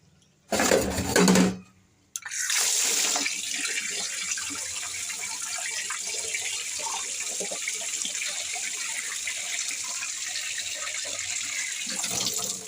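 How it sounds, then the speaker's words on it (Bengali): Tap water runs steadily into a sink while raw chicken meat is washed for a spicy chicken dish, a continuous close hiss after a short burst and a brief pause, with faint clatter underneath. "আর এখানে মাংসটা ধুয়ে নিচ্ছি"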